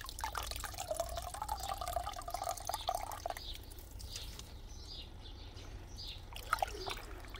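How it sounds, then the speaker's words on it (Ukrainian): Dirty garden pond water, wrung from a sponge, drips and trickles in soft irregular spatters, close by and faint, with a low background hum throughout. "Виливаю отак прямо тут брудну цю воду."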